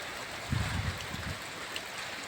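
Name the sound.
heavy rain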